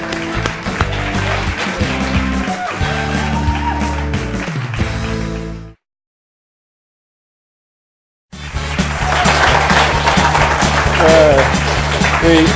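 A studio audience on a TV talk show breaks into applause bridging a commercial break, a dense loud wash of clapping over steady low music, heard after a passage of music and a few seconds of silence.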